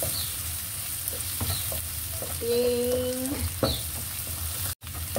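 String beans are stir-fried in a pan with steady sizzling, punctuated by scraping and clinking of a utensil against the pan, all close and moderately loud.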